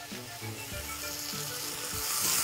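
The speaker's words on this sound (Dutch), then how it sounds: "We gaan de look nu mooi goudbruin aanbakken." Steady hissing sizzle of garlic frying in hot oil, close and continuous, with a few soft clinks.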